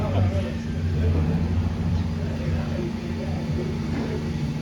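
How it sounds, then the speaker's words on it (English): A tractor rumbles past a football practice, a steady low engine drone running under continuous nearby talk throughout. "And here comes that tractor again."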